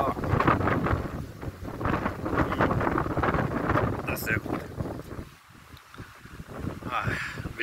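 Strong wind buffets an outdoor microphone in a continuous, loud rumbling roar with gusty surges and brief dips, and someone talks faintly underneath.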